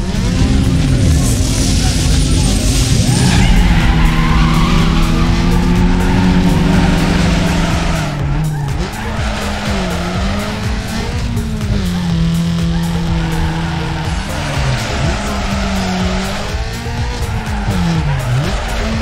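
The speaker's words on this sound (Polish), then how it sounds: "Tu mamy już bardzo skomplikowany drift." A Peugeot 106 drifting in Need for Speed Underground 2, its engine droning loud and close while tires squeal in long wavering skids that rise and fall, with a voice talking over it.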